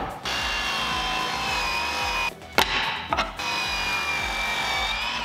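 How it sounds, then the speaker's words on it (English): Miter saw cutting a wooden board for a geometric wall shelf: a steady high motor whine runs throughout, broken by short harsh bursts of the blade biting through the wood near the middle. "I first cut in the miter cut on one end of each board needed."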